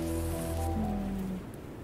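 Steady rain hisses across the whole stretch in the farming video game Grimshire, a soft even wash beneath tonal game music that fades slightly near the end.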